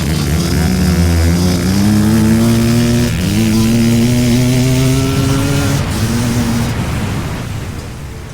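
A legendary 500cc two-stroke Quadzilla engine fitted to a kids' mini quad screams through a race final. Its pitch climbs steadily, drops briefly at each gear change and climbs again, loud and close, then begins to fade toward the end.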